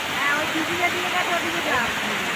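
A steady, dense rush of falling water at the top of Usri waterfall near Dhanbad fills the clip, with faint voices murmuring underneath.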